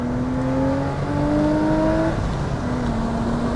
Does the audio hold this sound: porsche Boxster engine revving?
yes